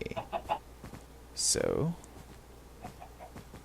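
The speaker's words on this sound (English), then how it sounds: "Hello, chicken. How are you?" A chicken in the video game Minecraft gives a short clucking squawk in the middle, moderately close, with someone talking briefly before it.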